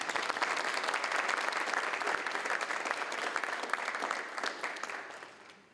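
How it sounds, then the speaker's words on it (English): Audience at an education panel clapping in a steady, fairly distant round of applause that holds evenly and then fades out at the end. "Let's give her a round of applause"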